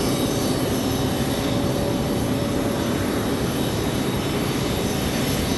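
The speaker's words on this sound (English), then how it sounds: "Aero Mexico from Mexico City, the E190, flying about 3 hours, 30 minutes" An Aeromexico Embraer E190 airliner at Raleigh Durham airport gives a loud, steady jet engine roar with a broad rushing hiss, holding constant and close with no talk.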